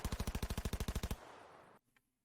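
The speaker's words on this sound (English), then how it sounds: "you hear gunfire going off as the front doors kick open" Rapid automatic gunfire in a Cyberpunk Red tabletop role-play scene as front doors are kicked open: about fifteen evenly spaced loud bursts over one second, then a fading tail of reverb.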